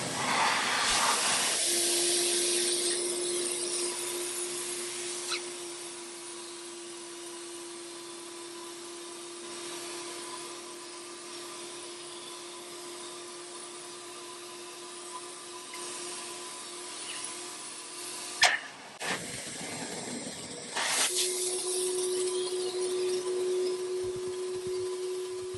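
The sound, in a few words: carpet extractor wet vac running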